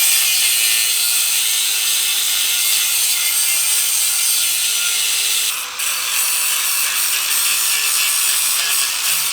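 Plastic taillight pieces are cut off a Honda Dio Elite scooter with a power cutting tool. A steady, loud, high-pitched grinding and rasping runs without a break, with a brief dip near the middle and no talk.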